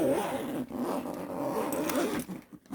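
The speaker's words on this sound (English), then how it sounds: "this zips from the bottom all the way around to close" A zipper drawn steadily around a guitar gig bag, a close, continuous raspy zip for a couple of seconds that slows and catches near the end, with no voices.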